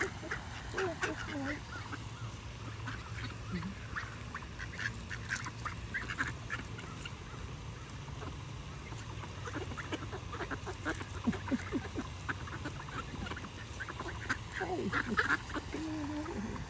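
Ducks and geese honk and quack in a busy, continuous chorus of overlapping calls, some near and some farther off, with brief bits of talk underneath.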